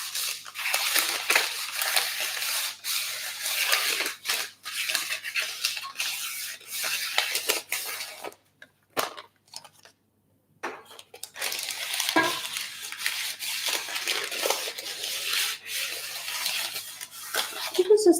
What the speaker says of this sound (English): I'm going to use the butter that's left on here to grease the pan that I'm using.